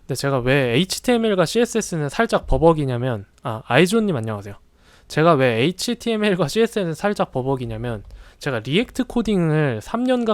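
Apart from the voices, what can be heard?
None of the usual background noises is heard.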